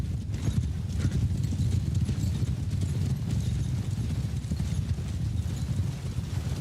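Cavalry horses gallop together in a video game battle, a dense, continuous drumming of many hooves with no pause throughout.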